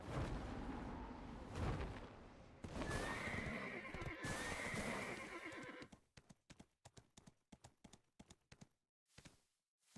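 A horse in the online game Black Desert Online gives a loud whinny over galloping hooves, and then comes a quick, uneven run of separate clip-clop hoofbeats.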